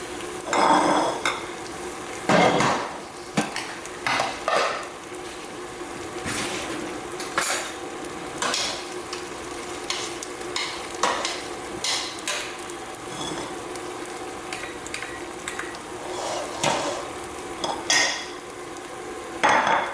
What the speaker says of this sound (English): Gotta finish giving it a few more stirs